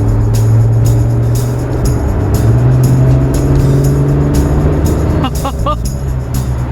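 A 2017 Maserati Ghibli accelerates, its engine note rising steadily from inside the cabin under loud road and wind noise, with a voice heard briefly near the end.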